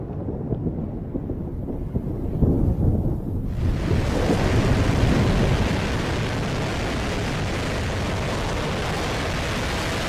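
Rolling thunder from a great storm rumbles low and loud, swelling into a heavy roar after a few seconds and then settling into a dense, steady wash like wind and rain, with no voices.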